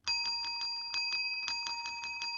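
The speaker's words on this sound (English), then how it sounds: "You can ring that bell for notification updates" A small notification bell rings in a rapid, even trill of about a dozen quick strikes, fairly faint and heard alone.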